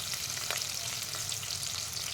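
Shallots and green chilies sauté in hot oil, a constant soft sizzle and crackle with occasional stirring scrapes, close and moderately quiet, with no voices.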